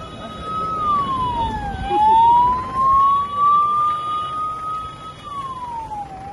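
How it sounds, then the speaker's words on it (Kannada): An ambulance siren wails in a slow, loud sweep that falls, climbs and falls again, standing alone with no voices, as a newly sanctioned ambulance service is launched in Sirsi. "ಆಂಬ್ಯುಲೆನ್ಸನ್ನು ಶಾಸಕ ಶಿವರಾಮ ಹೆಬ್ಬಾರ್ ಅವರು ಮಂಗಳವಾರ ಸ್ವತಃ ತಾವೇ ಚಲಾಯಿಸುವ ಮೂಲಕ ಆಂಬ್ಯುಲೆನ್ಸ್ ಸೇವೆಗೆ ಚಾಲನೆ ನೀಡಿದರು."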